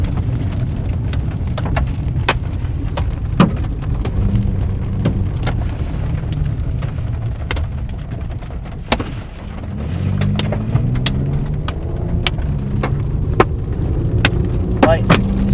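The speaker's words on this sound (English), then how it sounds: "this hail is freaking crazy" Hailstones strike a car in a storm on an Oklahoma tornado chase, sharp irregular cracks and clatters hitting the body repeatedly over a loud, steady rumble, with low engine or road noise swelling midway.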